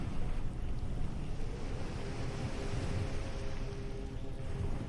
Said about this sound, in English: The waves continue, in and out.